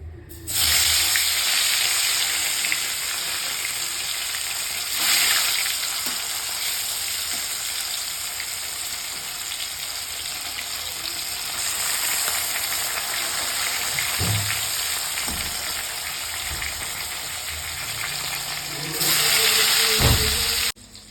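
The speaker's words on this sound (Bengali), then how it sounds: "মাছগুলো ভালোভাবে ভেজে ভেজে তুলে নিচ্ছি লাল লাল করে।" Pieces of katla fish fry in hot oil, giving a loud, dense, continuous sizzle and hiss close by that swells slightly at moments, with faint knocks underneath.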